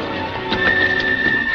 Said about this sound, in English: There's his horse, Marshal.